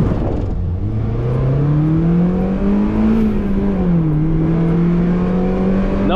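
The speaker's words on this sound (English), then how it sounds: "0 to 60 test on an MB Miata." A Mazda Miata runs a 0 to 60 mph acceleration test, its engine note climbing steadily in a loud, close, continuous roar that rises in pitch for several seconds before leveling off, with no talk.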